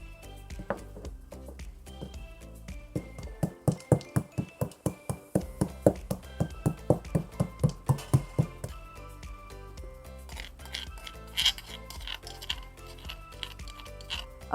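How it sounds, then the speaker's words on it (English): Black peppercorns pounded by hand for a grilled pineapple pork chop marinade, a run of about twenty sharp, evenly spaced knocks at close range, quieter tapping before and after. "pound the black pepper"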